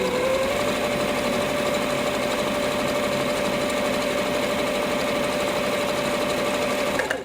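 An electric sewing machine stitches a fabric face mask, giving a steady, close, continuous running whir that holds for about seven seconds and then cuts off at the end, with no talking.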